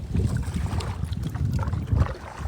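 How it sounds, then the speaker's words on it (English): Wind rises around a fishing kayak on open water, a low buffeting rumble against the microphone that swells and gusts unevenly throughout. "just like that, the wind picks up"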